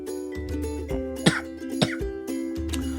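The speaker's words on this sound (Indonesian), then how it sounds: "Waduh, batuk-batuk ini ya." A person coughs several times in quick, harsh bursts, close by, with a low steady hum in the background.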